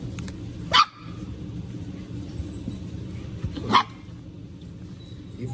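A white Pit Monster female dog lets out two sharp, loud barks about three seconds apart, nearby, over a steady low background rumble.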